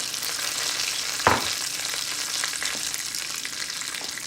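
Bacon frying in a pan for pasta carbonara, a steady close sizzle with one sharp clatter early on, then continuous crackling hiss with no voices.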